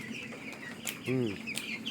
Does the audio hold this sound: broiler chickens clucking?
yes